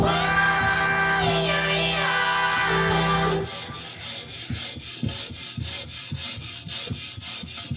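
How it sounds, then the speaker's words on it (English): Sandpaper is rubbed by hand across a homemade jetboat exhaust, first with a scraping ringing stroke, then a rapid steady rhythm of short sanding passes, close and alone without talk. "Sanding is done on this one."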